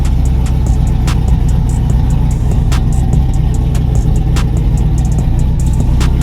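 A truck with an LS1 383 stroker engine, freshly fitted with new injectors and running rough, idles loud and close with a droning cam lope and a steady rumble broken by sharp periodic ticks.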